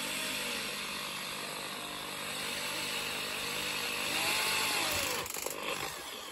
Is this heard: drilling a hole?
yes